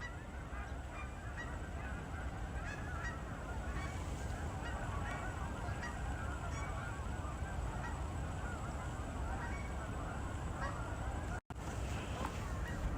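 A flock of geese honks continuously at a distance near a red barn on a snowy day, a dense, steady clamor of overlapping calls that is broken only by a brief dropout near the end.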